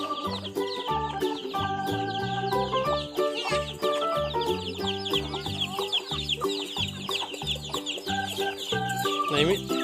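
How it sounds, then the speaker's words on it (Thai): Clucking from pet chickens at feeding time sits under steady rhythmic background music, the birds' calls scattered and fairly close, with no clear speech. "ให้อาหารไก่ด้วยไหน"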